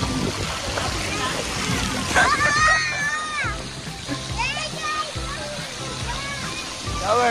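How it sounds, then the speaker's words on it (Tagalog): Water sprays and splashes continuously while children shout and chatter nearby, with a loud rushing hiss running throughout. "Oh, may shower din eh."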